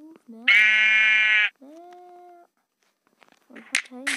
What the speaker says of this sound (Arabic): يعني مثلا نحط خروف